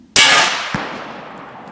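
A single loud 7mm Remington Magnum rifle shot fired at a 400-yard target outdoors, a sharp crack trailing into a long rolling decay, with a faint distant impact thump about half a second later.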